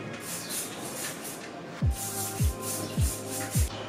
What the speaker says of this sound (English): We're gonna spray on some of this.